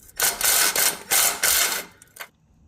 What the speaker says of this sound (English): So we're taking off this bolt here.